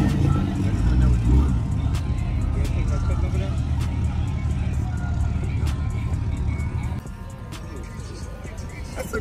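A lifted 2013 Ford F-150 Lariat truck at a truck and car show roars with a loud, sustained engine note that drops off sharply near the end, while bystanders' voices and crowd noise continue over it.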